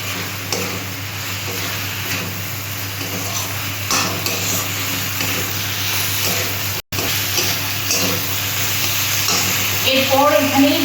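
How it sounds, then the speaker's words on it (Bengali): Fried mourala fish is stirred into spicy masala with capsicum in a pan, giving a loud continuous sizzle with scraping stirs and occasional utensil clinks, and a brief voice near the end. "ভাজা মাছটা দিয়ে আমি আবার একটু নেড়ে চেড়ে নেব।"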